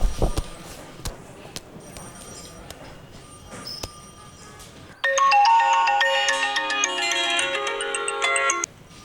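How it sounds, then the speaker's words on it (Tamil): A telephone rings with an electronic ringtone, a sustained melodic tone that begins midway after some quiet clicks and knocks and plays loudly for a few seconds before cutting off. "சார், ரிங் ஆகுது சார்."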